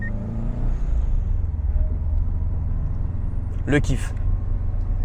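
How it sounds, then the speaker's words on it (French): A Subaru Impreza WRX STI with its flat engine rumbles steadily at close range, a brief sharp whoosh near the end fitting the dump valve venting, while a voice talks briefly. "Donc le gros bruit du flat et le son de la dump valve."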